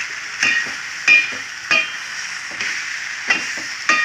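Radish greens fry in a pan with chili powder, a soft sizzle under repeated sharp scrapes and clacks of a spoon stirring at roughly half-second intervals, close by with no speech.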